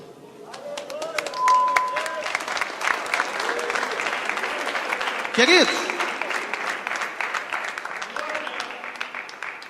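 Congregation in a church applauding while sitting down, sustained clapping under a speaking voice, with brief sung or spoken tones and a short louder burst partway through.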